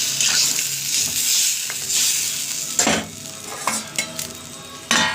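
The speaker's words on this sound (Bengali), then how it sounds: "এবার জলটা দিয়ে দিই, জলের জন্য দিয়ে ভেজে দিই।" Spices such as cumin and turmeric frying in a pan for a thin fish curry hiss loudly as water goes in, a bright steady sizzle with occasional spoon scrapes and knocks against the pan, close and without speech.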